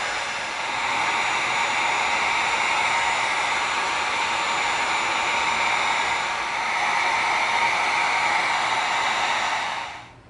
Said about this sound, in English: Now it's time to seal it with our heat gun.